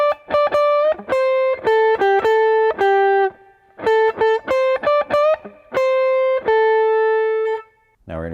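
An electric guitar plays a blues solo phrase, a run of clean sustained notes with a bend and quick picked figures, loud and close, ending in a brief scrape.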